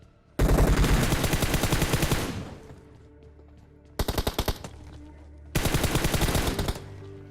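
Rapid automatic gunfire in PUBG Mobile, three loud bursts of fast rhythmic shots separated by short pauses, with no talk over them.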